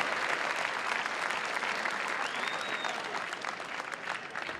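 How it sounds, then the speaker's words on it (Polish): Spectators at a Polish Ekstraklasa football match between Podbeskidzie Bielsko-Biała and Piast Gliwice give a dense, sustained round of applause that fades slightly toward the end, with a brief whistle rising above the clapping. "brawa dla Rysia Zająca"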